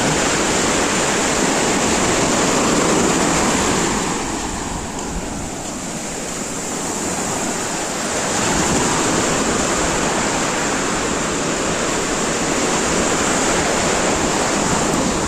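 Steady, loud roar of surf at Ramatheertham beach, a continuous broadband wash of breaking waves that swells and eases slightly, with some wind across the microphone and no voices.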